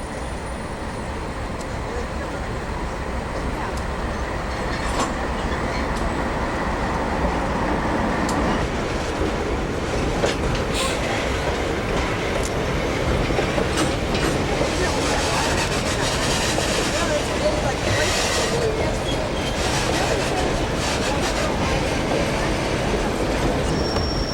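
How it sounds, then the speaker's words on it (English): A train rumbles steadily past at close range in winter near the summit at Dead Horse Gulch, Alaska, wheels clattering and occasionally squealing, loud and continuous with a broad roar. "Comes another train."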